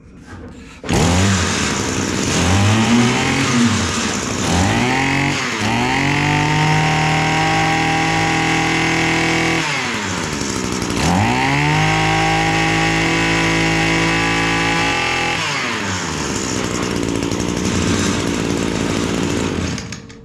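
An Echo SRM-225 string trimmer's small two-stroke engine starts up and runs loud and close, revving up and dropping back to idle several times in repeated high-pitched buzzing surges.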